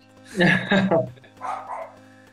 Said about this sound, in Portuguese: cachorro tá latindo